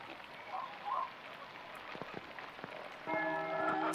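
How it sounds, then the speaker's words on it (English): Steady soft rain patters in the medieval game Pentiment under faint ambient tones, with a brief chiming bell-like sound near the end. "It's still raining."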